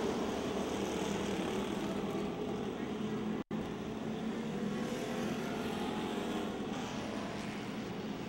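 Race cars lap a speedway at the Speedzone, producing a steady, distant engine drone that holds at an even level, broken only by one brief dropout midway.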